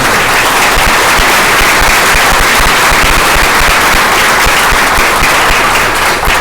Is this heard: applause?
yes